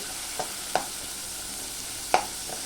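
Onion, green chilli and coriander sautéing in a pan for upma, a quiet steady sizzle with a few sharp spatula scrapes and taps against the pan.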